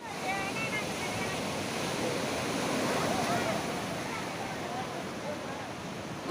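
Sea waves wash steadily onto Vizag beach in India, a continuous broad surf roar mixed with wind buffeting the microphone, with no clear breaks over several seconds.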